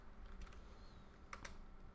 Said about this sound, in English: press the Windows key on your keyboard and type in run